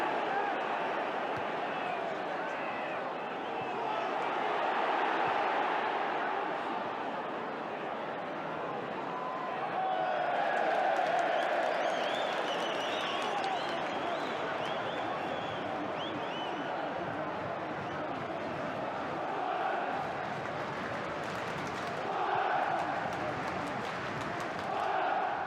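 A large football crowd at the Riverside stadium, Middlesbrough, roars and applauds continuously with home side Boro leading 2-0, a dense swelling wash of cheering under steady commentary.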